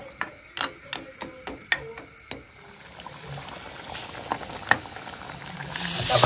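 Crab curry with salt and kokum comes up to a boil in a pot, opening with a quick run of sharp metallic taps, then a rising bubbling hiss that grows steadily louder, heard close.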